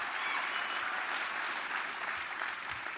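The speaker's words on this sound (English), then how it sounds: "Give James a round of applause." Audience at a political rally in Eau Claire, Wisconsin claps steadily, a dense, even wash of applause from a crowd that carries on for a few seconds without pause.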